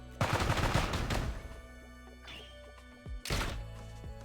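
Sniper rifle shots in the Blue Archive video game, two loud sharp cracks with rumbling tails, one at the start and another after a short lull, over a steady game music bed.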